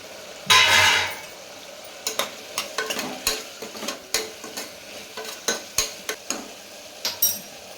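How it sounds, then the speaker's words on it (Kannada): Tomatoes frying in a pan while mushroom biryani is cooked. A sizzle bursts out at first, and then a spoon scrapes and clinks against the pan in repeated stirring strokes, close and clear, with no talking. "ಇವಾಗ ಟೊಮೊಟೊನ ಹಾಕ್ತಾಯಿದ್ದೀನಿ."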